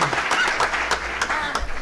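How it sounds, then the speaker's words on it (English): A crowd at a school event applauds a girls' team, with brief, dense clapping throughout. "give these girls a round of applause"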